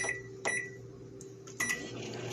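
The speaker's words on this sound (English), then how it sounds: "I'm going to put these in the microwave on high for 2 minutes and 30 seconds" A microwave oven running on high to cook egg bites, a steady hum with a low electrical drone, punctuated by a few short clicks or clunks; no voices.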